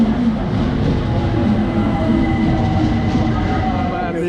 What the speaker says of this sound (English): We've just got to Blackheath train station